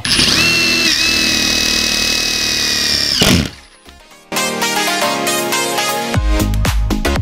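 A power drill turns a 68 mm hole saw through Habito plasterboard, a loud whining buzz that runs for about three seconds, breaks off briefly, then cuts in again with harsher grinding.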